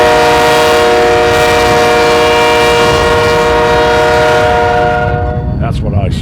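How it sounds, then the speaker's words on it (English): A BNSF GE B40-8 diesel locomotive, built 1988–89 and ordered by the Atchison, Topeka and Santa Fe, sounds a loud sustained multi-tone air horn up close while the train rumbles past, the horn cutting off near the end. "This is the Last GE B40-8 on the BNSF Roster."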